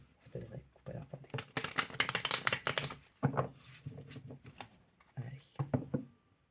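Tarot cards being cut and shuffled by hand, quick papery riffles and flicks in short bursts, close up, mixed in with someone talking.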